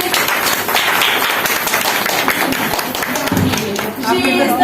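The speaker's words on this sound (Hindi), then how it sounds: "उनका भी जोरदार तालियों से स्वागत कीजिए" Audience clapping to welcome a guest at a Teej celebration, a dense continuous patter of many hands filling the room, loud and steady, with voices mixed in.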